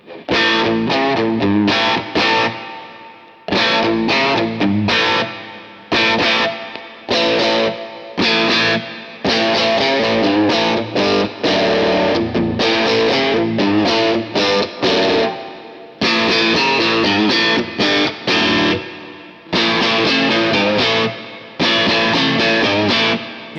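Heavily distorted electric guitar, a Fender Telecaster, playing chunky chords in bursts with short pauses, loud and close, no voices.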